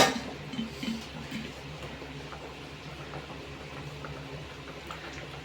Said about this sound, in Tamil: அது வந்து ஒரு பபுள்ஸ் பபுள்ஸாக கொதிக்கும் அப்படின்னு சொல்லுவாங்க